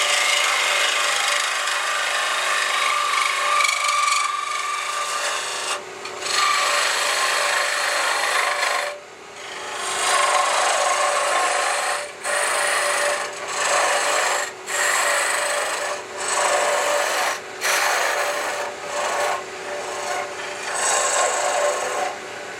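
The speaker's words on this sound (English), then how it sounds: "3/8" bowl gouge, deep fluted," Wood turned on a lathe with a 3/8 inch deep fluted bowl gouge with an Ellsworth grind, a loud, continuous rasping cut broken by short gaps as the tool lifts off, close and unvoiced.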